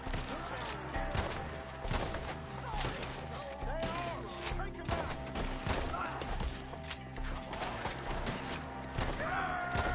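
Gunfire in Red Dead Redemption 2 during a shootout with enemies up in the trees, dense repeated shots and thuds over a continuous game soundtrack, with characters shouting throughout.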